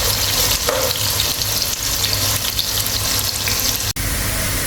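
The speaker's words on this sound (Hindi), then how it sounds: "अच्छी तरीके से मिक्स करेंगे और प्याज ब्राउन होने तक का वेट करेंगे।" Onions fry and sizzle in a pan, with a steady hiss and occasional scraping as they are stirred while browning for an egg and tomato karahi, plus a brief sharp knock near the end.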